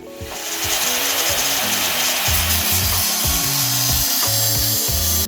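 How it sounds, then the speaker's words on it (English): An angle grinder cuts through a metal roof basket, a loud continuous abrasive whine with shifting pitch that runs steadily for several seconds, close up and alone. "take the grinder and I'm just going to start cutting."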